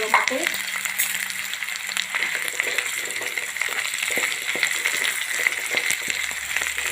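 Boiled, peeled and lightly pressed potatoes fry in a pan for ragda, giving a steady, dense sizzle with a few stirring scrapes and no talking.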